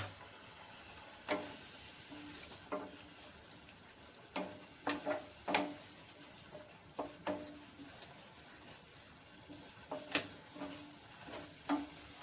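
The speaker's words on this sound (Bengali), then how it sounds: "এবার তেল ছাড়া পর্যন্ত মশলাটাকে কষতে থাকবো" A spice paste with Kashmiri chilli powder and a splash of water sautés in oil, sizzling softly while a spoon scrapes and knocks against the pan in irregular strokes, with no talking.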